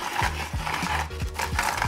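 A kakigori machine shaves a frozen strawberry ice block, giving a close, steady rhythmic scraping grind that repeats about four times a second.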